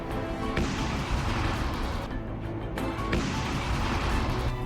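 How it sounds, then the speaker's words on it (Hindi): A violent, sustained roar of blasting and crashing debris from a Neptune missile strike on a Russian navy vessel, loud and dense, with a brief dip before the rumbling surges back. "फिर हुआ ऐसा धमाका जिसने रूस की नेवी को हिलाकर रख दिया"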